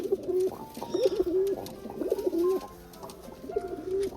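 Pigeons coo repeatedly in soft, rolling phrases at a steady rhythm, fairly close, with faint background chirps.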